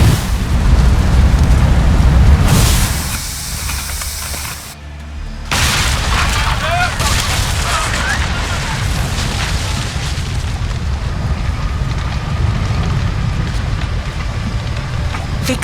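Cannon fire booms in Assassin's Creed Odyssey, a loud, heavy blast with rumbling debris that cuts off briefly, then gives way to sustained crackling and roaring battle noise that continues throughout.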